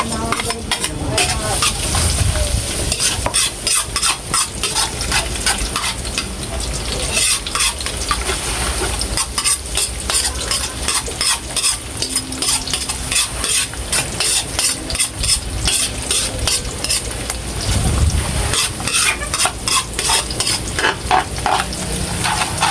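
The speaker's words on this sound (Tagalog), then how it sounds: "Kaya po, bali po ay magigisa na tayo ng bawang." Garlic sautés in a hot pan for a sauce, giving a continuous close sizzle with frequent rhythmic stirring scrapes and clinks of a utensil against the pan, with no talk.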